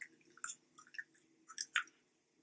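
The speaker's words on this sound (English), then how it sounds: "I'm chewing on this gum like it is, my last meal" Gum is chewed close to the microphone, with soft wet smacking and squishing bursts in an uneven rhythm over a quiet background.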